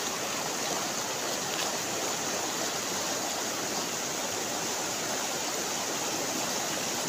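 A rain-swollen river in flood flows past steadily, a continuous close rush of water that stays even throughout with no voices.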